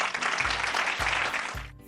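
Hand clapping as a sound effect: a short burst of bright, dense claps, steady and fairly loud, fading at the end.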